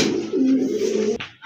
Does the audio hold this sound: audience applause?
no